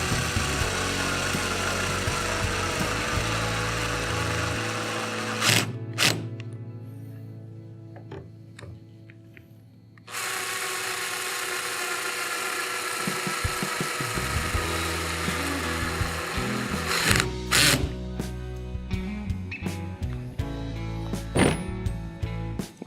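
A power drill set to a soft clutch whirs in bursts while tightening well nuts on a 2019 Hobie Mirage Outback kayak during an anchor trolley install, with quiet pauses and clicking between runs.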